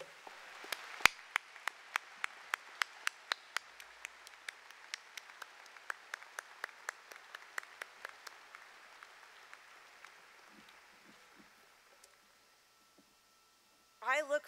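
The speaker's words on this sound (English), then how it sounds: "Can you please stand today and give them the outrageous, generous applause that everyone who's here and beyond who's helped you deserves?" Graduates applaud at the King's College 2023 commencement ceremony: a steady run of crisp, evenly spaced claps over a softer crowd wash, thinning and fading out after about ten seconds.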